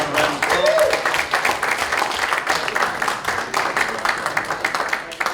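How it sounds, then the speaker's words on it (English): Audience applause at a comedy evening before a poker tournament fills the room, a dense, close, sustained clapping that carries on without a break from start to end. "give everyone a round of applause."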